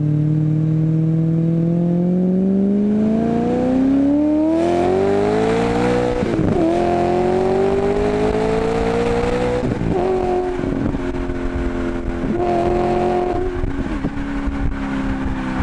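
A Maserati Quattroporte accelerates hard in sport mode with the exhaust flaps open. The loud engine note rises steadily through the gears, with brief dips at each shift.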